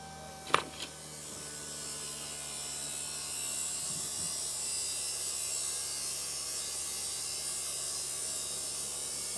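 A foam RC tire truing machine spins up with a sharp start click, then runs as a steady electric hum and buzz while shaving rubber from a 1/12th or 1/10th scale foam tire, close and continuous.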